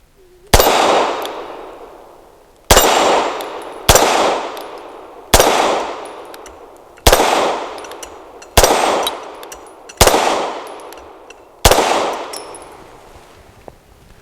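Eight loud, sharp pistol shots from a Grand Power Mk23 with a 4.8-inch barrel, firing PMC Bronze ammunition, crack one at a time at slow, even intervals, each followed by a ringing decay.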